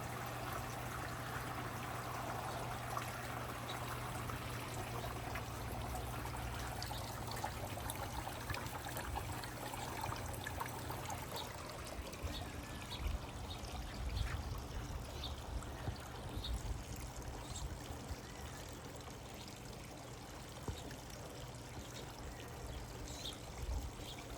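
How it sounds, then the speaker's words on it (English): Garden water fountains trickle and splash steadily outdoors, a soft continuous running-water wash with no talk over it. "I've been asked why I have so many water fountains. Just listen to this."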